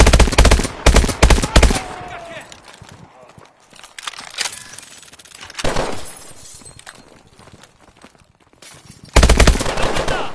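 Rapid automatic gunfire in Call of Duty: Advanced Warfare comes in loud bursts at the start and again near the end, with impacts and debris in between, and voices shouting over the action.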